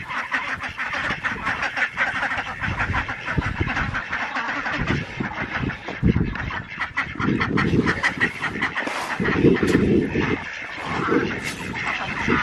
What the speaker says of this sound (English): Let's go feed the ducks.